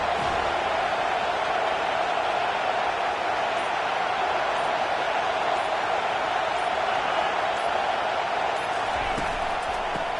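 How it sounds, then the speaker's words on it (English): Stadium crowd noise in the College Football 25 video game, a steady, loud, dense roar that holds without a break from start to end, with no clear individual cheers standing out. "this crowd trying to help keep them there"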